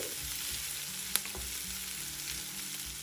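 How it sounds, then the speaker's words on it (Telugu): Ginger and shallot paste fries in a pan for a boiled potato fry, giving a soft, steady sizzle with a faint stir or clink partway through and no voices. "ఇలా వేయించుకుంటే అల్లం చిన్నిపాయ పేస్ట్ కూడా మనకి వేగిపోతుంది."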